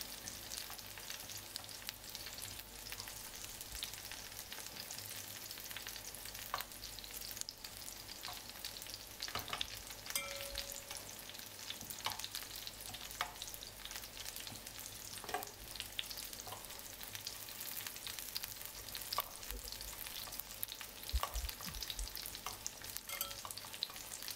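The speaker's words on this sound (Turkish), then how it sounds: "Yarım çay bardağı sıvı yağla tüm köftemi kızartıp bitirdim." Meatballs frying in a pan with half a tea glass of vegetable oil, a steady crackling sizzle with scattered pops and faint stirring sounds, no talking.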